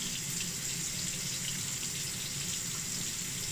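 Water runs steadily from a tap into a sink while soap is rinsed off a forearm, a constant, close, full hiss with no break and no voices.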